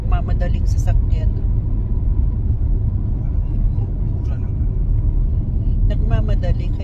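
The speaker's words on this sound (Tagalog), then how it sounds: "yung nagmamadaling sasakyan" A car speeds past on a road, a loud continuous low rumble that swells and fades, with people talking briefly over it near the start and end.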